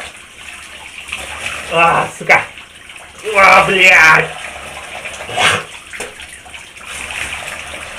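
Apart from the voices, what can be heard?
water splashing while rinsing foam off face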